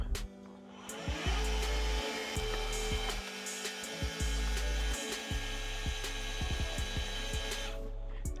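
A Celestron Advanced VX telescope mount's motors slew with a steady high whine, stopping and restarting several times with abrupt pitch changes, close and continuous with no talking.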